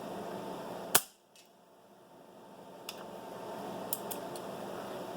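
A Marauder air rifle fitted with a balance valve and upgraded hammer springs fires one sharp, crisp shot nearby, followed by quiet handling and a few faint clicks against low room noise.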